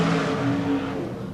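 BriSCA Formula 1 stock cars racing at Kings Lynn in 1993, their engines a loud, sustained close-range roar with steady droning tones that shift slightly as the cars power around, heard with no voices over it.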